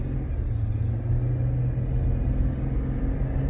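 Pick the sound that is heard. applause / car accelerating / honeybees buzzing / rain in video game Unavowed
car accelerating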